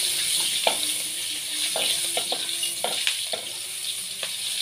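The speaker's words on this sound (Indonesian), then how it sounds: "Ini kita masukin bawang merah." Shallots fry in oil left over from frying fish, giving a close, steady sizzle with scattered sharp crackles and pops throughout and no talking.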